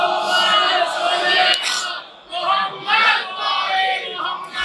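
A majlis audience in a Muharram gathering chants salawat together, a loud massed chorus of voices rising and falling in short waves, with a brief dip midway before the crowd swells again.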